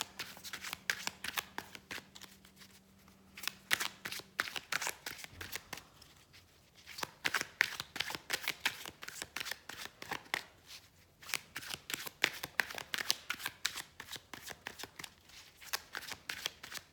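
Tarot cards are shuffled and drawn again and again, with close, crisp riffling bursts and soft flicks that come in repeated waves, pausing briefly between rounds.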